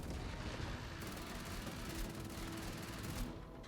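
Artillery shells exploding in the game Outpost: Infinity Siege, a sustained low rumbling of blasts and booms rolling together, fairly faint and distant with no clear gaps.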